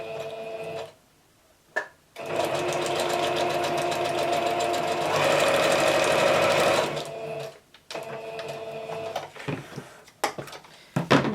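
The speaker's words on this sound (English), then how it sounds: "I'm just going to sew this, you guys." A sewing machine stitches a small craft embellishment in a quiet room, its fast steady whirring running in two long bursts with brief pauses, then short stop-start runs and clicks near the end, close and clear with no talking.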